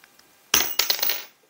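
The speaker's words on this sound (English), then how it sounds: "So the pliers did cut through." Knipex 71 32 200 mini bolt cutter pliers snap through a screw, one sharp metallic crack followed by a short jingling clatter of pieces, close and alone in a quiet room.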